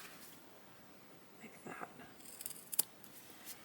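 Scissors trim the corners of a small fabric pillow, several faint close snips clustered toward the end of an otherwise quiet stretch.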